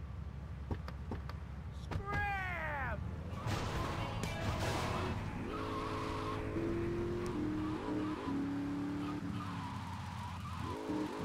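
A car in GTA Vice City drives with a steady engine hum, tires squealing at times and the engine revving up in rising steps, with some game noise around it.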